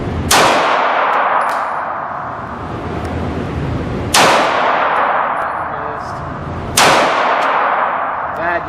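A Sears SS16 fires three spaced shots, each a sharp crack followed by a ringing metallic clang from a steel target that decays over several seconds.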